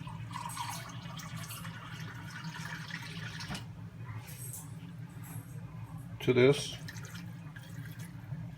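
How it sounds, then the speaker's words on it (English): About five cups of water poured into Mexican rice in a pot, a soft splashing and trickling under a low background hum, with a short spoken phrase and a brief clink near the end. "We're going to add about 5 cups of water."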